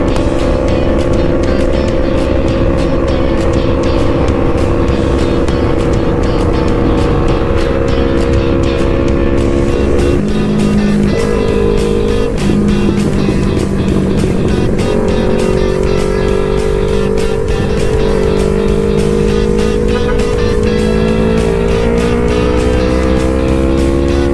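Steady engine drone of motorcycles and cars on a mountain road during a group ride, with a loud continuous hum whose pitch shifts around the midpoint as traffic builds and passes close by.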